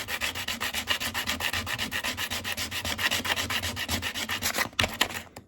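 An acoustic guitar saddle is rubbed back and forth on sandpaper, a steady close rhythmic scraping of many quick strokes, with no voices.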